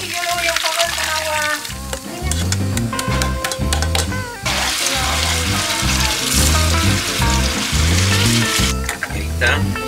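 Shredded beef sizzles loudly in a pan as water is poured in, a dense crackling hiss with bursts of steam and spatter. Voices talk over it in the kitchen throughout.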